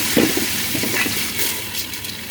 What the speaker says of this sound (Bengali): এখন দিয়ে দিলাম চালগুলো।